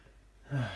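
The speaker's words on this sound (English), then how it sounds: "Heavy breathing, I just finished working out." One sharp, heavy breath drawn in close to the mic after a quiet moment, a short gasping exhale trailing off.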